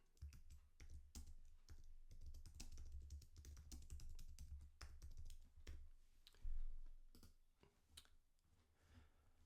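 A title is typed on a computer keyboard in a quiet room: quick, soft, close key clicks in irregular bursts with short pauses, and no speech.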